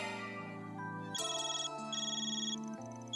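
A melodic electronic phone ringtone from the video game Trails Through Daybreak plays a short tuneful phrase of sustained tones, fairly faint and clear with no talking over it.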